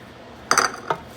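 A utensil stirs dry five-spice, white pepper and brown sugar in a bowl, giving a couple of bright clinks against the bowl's side over a quiet background.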